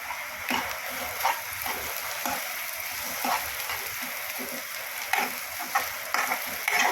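Curry leaves and browning onion fry in hot oil in a pan for Maharashtrian mushroom curry. A loud, continuous sizzle and crackle runs throughout, with soft scraping strokes of a spoon stirring at irregular intervals.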